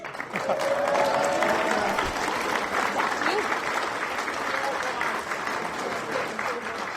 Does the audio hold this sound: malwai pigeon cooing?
no